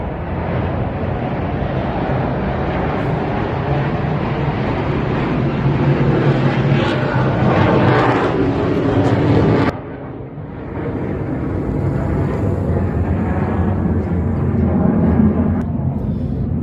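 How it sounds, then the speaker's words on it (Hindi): Loud roaring fighter jet noise sweeps overhead with a broad rushing texture, dipping briefly before surging again; no speech. "ये जो आवाज़ आप सुन रहे हैं ये फाइटर जेट्स की है"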